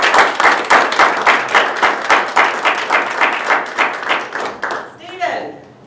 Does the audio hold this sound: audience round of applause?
yes